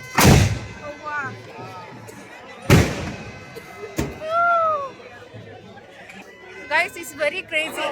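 Several loud firecracker blasts go off at a village fair, two big bangs and a sharper crack, amid outdoor crowd chatter and people talking nearby.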